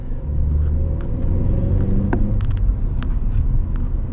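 Engine intake of a Ford Focus ST, a loud steady low rumble from up front with no talking, holding an even drone throughout with a few faint clicks on top.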